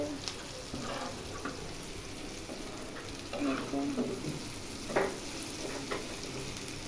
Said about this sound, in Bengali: আর এদিকে ওই ভাজা করতেছে